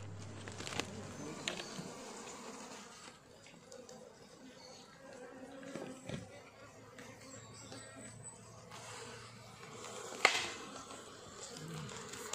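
Wild bees buzz in a droning swarm while their comb is moved into a cultivation hive box, the hum low and continuous beneath faint handling sounds and quiet background voices.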